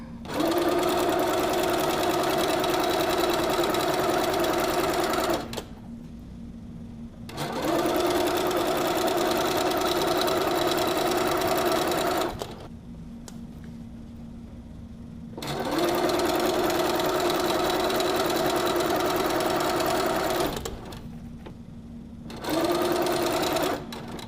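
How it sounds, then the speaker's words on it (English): A Little Rebel sewing machine chain-pieces quilt pieces, running in long steady whirring bursts of several seconds each, separated by short pauses. "we'll just keep chain piecing these all together"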